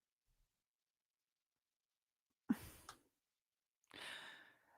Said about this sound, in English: We got a hippopotamus yawn over here.